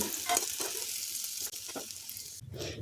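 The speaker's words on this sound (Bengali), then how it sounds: "রাঙা আলুটা একটু মুচমুচে করে ভেজে নিলাম হাই ফ্লেমে ভেজে নিতে হবে" Boiled sweet potato frying in hot oil over a high flame, a steady close sizzle with a few stirring scrapes, the frying hiss briefly cutting out and returning near the end.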